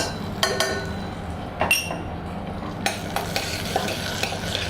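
Tomato paste, capers and olives frying in a pan, with a steady sizzle under repeated spoon clinks and stirring scrapes against the metal, close and without talk.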